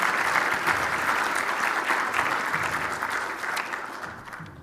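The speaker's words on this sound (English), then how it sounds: "Let's give a big round of applause for our sponsors and friends." Sustained applause from an audience at a peace and dialogue awards ceremony, steady and dense throughout before easing slightly toward the end.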